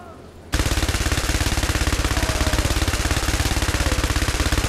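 Gunfire from an upgraded gun in a video game: after a brief quiet start, a loud, sustained burst of rapid, evenly spaced automatic shots continues without a break.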